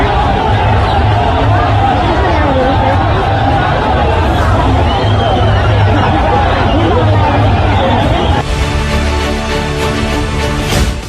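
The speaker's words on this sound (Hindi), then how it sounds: "ये भीड़ नेपाल में हिंदू राष्ट्र की वापसी और राजशाही की वापसी के नारे लगाकर पूर्व राजा का स्वागत कर रही थी" A huge rally crowd of more than ten thousand in Kathmandu greets the former king, a dense, steady roar of many voices with shouted slogans calling for the monarchy and a Hindu nation, loud and unbroken throughout.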